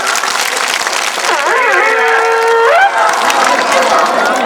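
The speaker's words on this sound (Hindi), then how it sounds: "कहीं ताली बजा के नाम स्वागत कहना।" A crowd claps steadily to welcome guests at a gathering, with a dense, continuous wash of applause and a voice rising and falling over it throughout.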